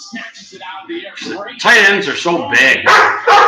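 A pet dog barks and yips loudly in bursts close by, mixed in with someone talking over a live college football broadcast.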